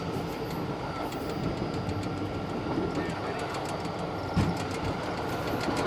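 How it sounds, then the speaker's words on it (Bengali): A Howrah to Prayagraj express train runs at speed, its steady loud rumble and wheel clatter filling the scene, with a brief louder thump near the end. "এখন ট্রেন বেশ ভালো গতি নিয়েই চলছে।"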